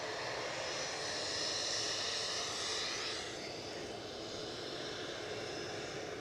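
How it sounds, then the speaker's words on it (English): A WestJet jet airliner rolls onto the active runway at Edinburgh Airport, its engines giving a steady broadband roar and whine that holds loud and even for several seconds, no voices over it. "WestJet getting out on the active runway."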